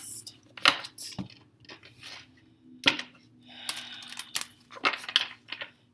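A tarot card deck is shuffled by hand close up, giving a run of crisp, irregular snapping clicks and soft riffles with short pauses between bursts.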